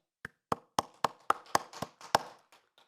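A church congregation during a Sunday worship service claps in a sparse run of about ten separate, sharp hand claps, fairly close and clear, with no talking.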